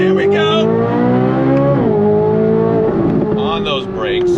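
A Chevrolet C8 Corvette Z06, mid-engine, accelerates hard on throttle with a loud, rising engine note climbing through the gears, with a brief dip around a shift, while a person talks excitedly over it.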